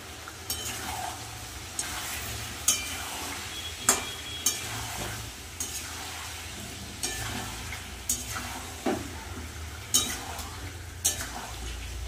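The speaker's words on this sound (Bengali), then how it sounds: "ভালো করে মশলা দিয়ে মাংস আর আলু কিন্তু কষিয়ে নেব" Chicken and potatoes with turmeric, chili, cumin and salt fry in a pan with a soft, steady sizzle, while a spoon stirs and scrapes the metal in sharp clacks every second or so.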